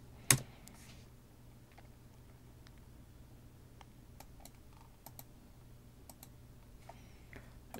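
A command is typed on a computer keyboard: faint, scattered key clicks with one sharper tap near the start, heard alone in a quiet room.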